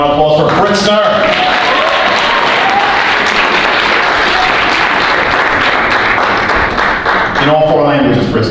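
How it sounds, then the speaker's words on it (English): Sustained applause from an audience honoring an award recipient at a Black History celebration, dense steady clapping filling the room, with voices at the start and end. "Another round of applause for Fritzner."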